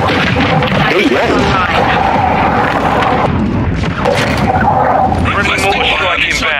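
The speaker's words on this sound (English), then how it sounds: "Friendly mortar strike inbound." Mortar strike explosions in a multiplayer video game, a loud sustained barrage of booms and blasts layered with gunfire, with voices talking continuously over the chaotic battle.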